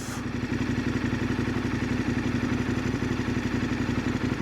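A motorcycle engine labouring at steady revs while riding through soft sand, a loud continuous rumble with rhythmic pulsing and some clatter, no talk over it.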